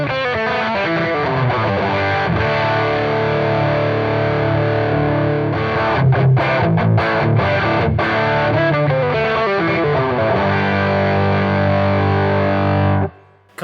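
Electric guitar played through a BOSS Blues Driver BD-2W overdrive with the tone knob all the way down, giving a dark, hairy, fuzzy distortion; sustained strummed chords ring loud and steady for about thirteen seconds before stopping abruptly.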